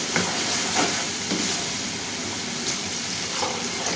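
Water hits a hot pan of frying spice mix for paneer curry, setting off a loud, continuous hiss and sizzle with bubbling crackles throughout, close and steady, with no talking.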